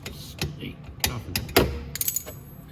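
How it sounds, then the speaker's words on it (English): A ratchet tightens the front manifold bolt on a Venom X22 125cc motorcycle, making a close run of irregular, sharp clicks and pawl ticks in short bursts. "ratchet and start to tighten it up a bit"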